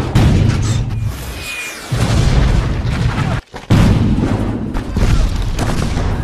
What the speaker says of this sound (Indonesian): meriam jarak jauh Perancis langsung menghajar basis garis depan pasukan Feng Zhichai